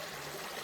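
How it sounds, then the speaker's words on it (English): Creek water runs steadily past a sluice box set in a rocky West Virginia streambed, a continuous close trickling wash with no voices over it. "As y'all can see, the creek runs down through here."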